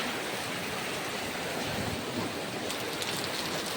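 Steady, dense hiss of heavy rain pouring down continuously, loud and close, with no voices.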